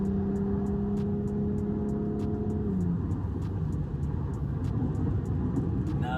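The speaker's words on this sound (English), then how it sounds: "exhaust noise you want to hear from a car." Car exhaust through a Magnaflow muffler, a steady moderate drone heard from inside the moving car; a held tone drops in pitch partway through over a constant road rumble, with repeated faint ticks.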